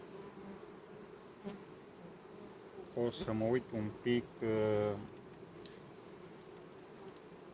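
Honeybees hum in a steady, dense drone around hives as two bee colonies are merged, with someone speaking briefly in the middle over the constant buzzing.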